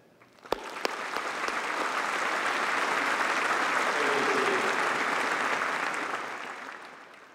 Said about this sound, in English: Please join me in applauding these individuals who have devoted their time and effort to shape these graduates' minds